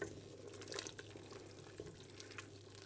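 Hot water from a recently boiled kettle is poured into a pot of pork soup with mushrooms, giving a steady, close liquid splashing and trickling sound that runs the full length without any talk.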